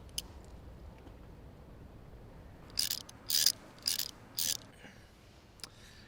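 A 10mm socket wrench ratchets on a 1998 motorcycle with a carburetor, giving four short clicking bursts in a quick, uneven sequence at close range, then one faint click near the end of an otherwise quiet stretch.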